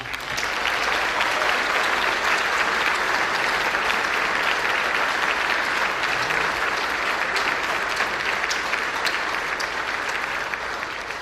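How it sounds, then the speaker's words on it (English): Dense, steady applause from a large crowd at a political event in a Washington hotel, honoring POWs and MIAs, continuing evenly and fairly loud without letting up. "a big round of applause for our POWs and MIAs"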